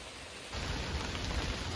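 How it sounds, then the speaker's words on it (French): Rain falls steadily in a quiet forest as a dense, even hiss that swells suddenly and then holds at a constant level, with no voices. "Juste la pluie qui tombe dans la forêt."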